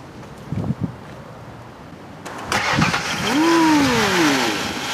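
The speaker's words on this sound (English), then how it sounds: "Just wait until you hear the engine." A car engine cranks and catches after a quiet stretch with a few faint knocks, then revs up in two rising sweeps and settles into a loud, near idle that fills the rest of the moment.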